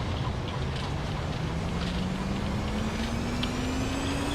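Thrust reversers deployed on a JARDesign Airbus A320 in the X-Plane 11 simulator, giving a steady, loud broadband roar with a slowly rising engine whine over the whole stretch, and no talking.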